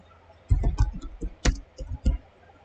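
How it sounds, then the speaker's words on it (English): Keys tapped on a computer keyboard while entering text into a spreadsheet: a handful of sharp, close clicks in uneven bursts, fairly quiet, with no talk over them. "on the spreadsheet, what I would do is just type in covert ops instead of interceptors"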